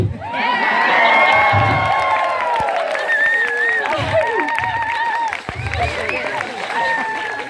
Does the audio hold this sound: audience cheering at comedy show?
yes